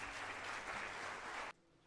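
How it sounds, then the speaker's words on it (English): Applause for the chief guest at an HR conclave, with steady, faint clapping from an audience that cuts off abruptly after about a second and a half. "A good round of applause for our chief guest,"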